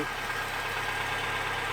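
A Mazda MX-5 NB engine idles at close range, heard through the open shifter hole in the floor as a steady, even broadband hum with a low rumble and no talk.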